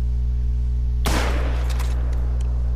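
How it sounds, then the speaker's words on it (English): A single loud rifle shot aimed at a puma in a hunting video game cracks sharply over a constant low hum, its echo trailing off with a couple of faint after-pops. "so I'll shoot him again right here"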